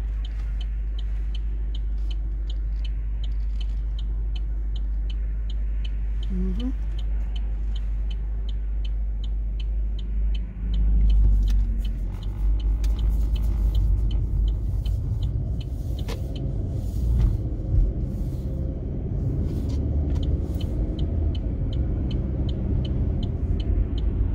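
A car driving a dirt road in Arkansas at dusk, steady low engine and tire rumble from inside the cabin throughout, growing rougher with gritty bumps and rattles partway through, no voices.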